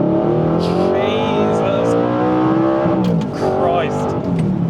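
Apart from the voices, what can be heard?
Audi R8 naturally aspirated V8 engine revving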